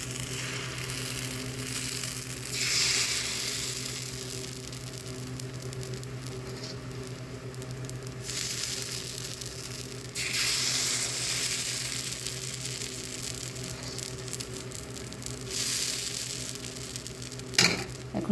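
Batter for soft dudh chitoi pitha sizzling in an oiled pitha mould on the stove, a steady crackle with soft patter that swells in bursts, heard alone with no talk.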